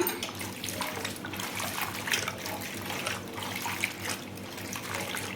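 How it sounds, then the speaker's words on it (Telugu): Fresh gongura leaves being washed in water in a home kitchen for a Godavari-style curry, giving a steady close splashing and sloshing with small irregular bursts, no talking. "వాటర్లో మనము గోంగూర వేసేసుకోవాలండి"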